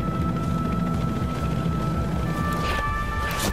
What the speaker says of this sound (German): Scheiße, Hubschrauber auch